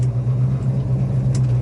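A 1970 Dodge Super Bee engine idles steadily nearby, a deep continuous low rumble with an even drone and no talk over it.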